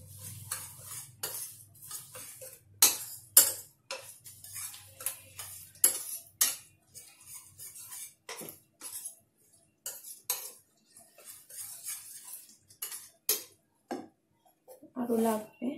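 Semolina is mixed in a bowl with a spoon, giving sharp, irregular spoon-on-bowl clinks and scrapes in quick clusters, close and fairly loud, with quieter stretches between.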